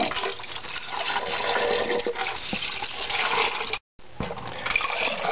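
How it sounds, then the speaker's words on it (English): Tap water running loudly into glass jars and a pot for making yoghurt, a continuous gushing stream that briefly cuts out near the end before resuming. "I'm going to start filling this up with water now."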